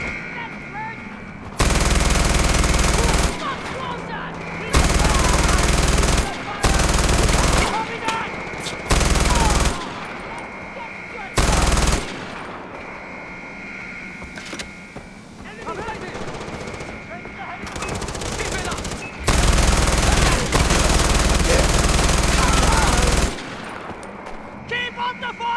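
Heavy automatic gunfire from the Far Cry 4 game comes in loud, sustained bursts that start and stop abruptly, with shouted voices and combat noise filling the gaps between them.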